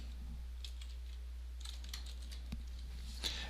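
Keys tapped on a computer keyboard while entering a VLOOKUP spreadsheet formula, a few scattered clicks over a steady low hum, close and fairly quiet, ending with a sharper keystroke.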